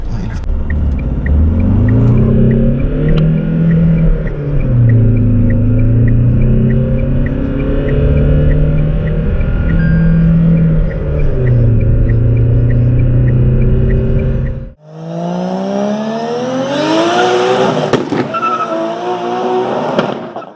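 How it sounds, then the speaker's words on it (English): A Tata Harrier automatic SUV in sport drive mode accelerates hard from a standstill to 100, its engine note rising loud and close through several gear changes, then shifting to a different, higher-pitched rush near the end. "So now let's do 0 to 100 acceleration and see how the car performs."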